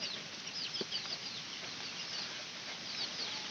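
Chickens and chicks in a poultry flock at feeding time: thin high peeps and soft clucks repeat over a steady background hiss, fairly close but quiet, with a brief flutter partway through.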